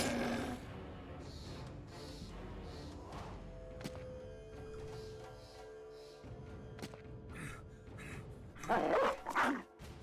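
War dogs bark and yip in a medieval battle in the video game Battle Brothers, sharp clipped barks scattered amid clashing combat effects, with a louder burst near the end.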